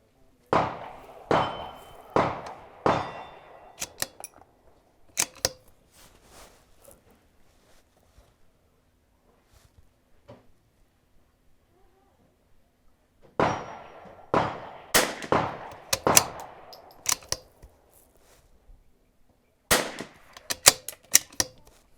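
Sharp shots from a Vudoo Gun Works V-22 rifle at a shooting range, two clusters of closely spaced cracks with short decays separated by a quiet stretch, loud and close.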